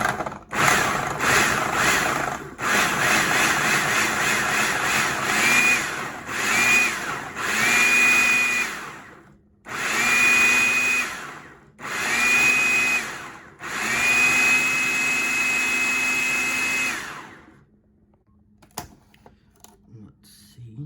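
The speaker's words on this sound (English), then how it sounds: "Now you just want to push this pulse button until it kind of resembles wet sand." A food processor pulses butter and flour into flaky pie crust dough, a loud motor whirring in repeated bursts of varying length separated by short gaps, ending in quiet.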